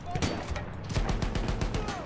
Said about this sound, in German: ihr könnt ja gerne auf den Panzer rumschießen